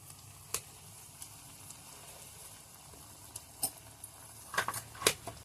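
Potato pieces frying in oil in a pan, a low steady sizzle with scattered sharp clicks and clatters of utensils that grow busier toward the end, no talking.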